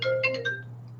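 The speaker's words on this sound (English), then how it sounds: "I don't know why they calling me when I can't answer my phone." A phone ringtone plays briefly as a short melodic sequence of bright tones over a steady low hum, fading out after about half a second, with no talking.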